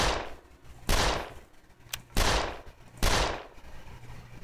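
In the video game 13 Days in Hell, four loud gunshots ring out about a second apart, each sharp crack trailing into a decaying boom, with brief quiet between them.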